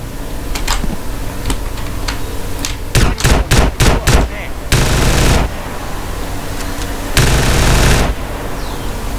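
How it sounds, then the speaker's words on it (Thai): A SPAS combat shotgun fires in GTA San Andreas during a gang fight, with loud separate blasts. A rapid cluster of about five shots comes midway, then two longer booming bursts, with scattered quieter shots around them. "เปลี่ยนปืนลูกซองมาดีกว่าเอาลูกซองนี้บ้างเอาสแปซมาเล่นกับแม่งเลยดีกว่า"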